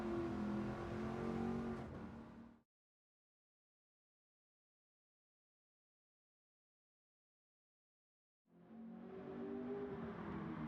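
A modified 1971 Ford Mustang Mach 1 race car engine in Gran Turismo 7, revving loudly and steadily for a couple of seconds, then a long silence before the engine roars back in.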